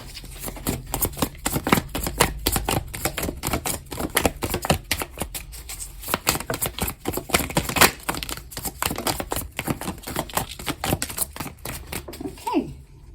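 Tarot cards are shuffled by hand, a dense run of rapid, close riffling clicks and flutters in uneven bursts, with no speech.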